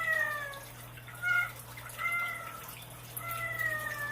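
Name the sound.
cat meowing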